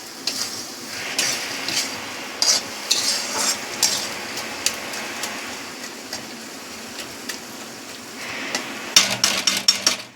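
Lote fish jhuri frying in a pan while a spatula stirs and scrapes it, repeated close clinks and scrapes over a steady sizzle, busiest near the end.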